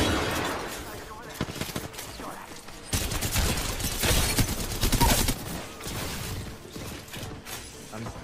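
Rapid bursts of Havoc energy-rifle gunfire in the Apex Legends battle royale game, dense repeated shots under a busy mix of mechanical clatter, louder in a sustained stretch mid-clip.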